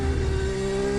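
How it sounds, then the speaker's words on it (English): McLaren Formula 1 car driven on track at the 2020 Turkish Grand Prix, a steady high-pitched engine whine held for about a second, moderately loud with no voices. "The sound you can hear is Lando Norris in the McLaren, Jenny, chasing down Lance Stroll."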